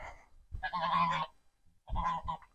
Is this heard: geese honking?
yes